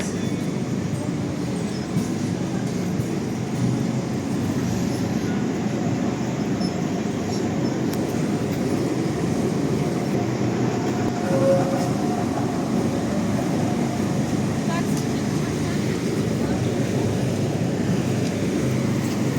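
A tram rolls along a Lviv street in summer, a steady low rumble and rail noise that holds close and fairly loud throughout, with faint street ambience around it.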